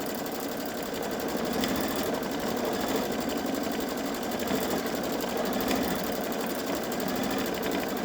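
A Babylock Solaris 3 sewing machine stitches around an ironed-on patch on a sweatshirt, a close, continuous rapid mechanical chatter running steadily with no talk.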